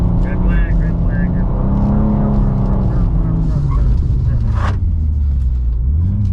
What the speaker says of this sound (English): Charlie's gotten way better at drifting today.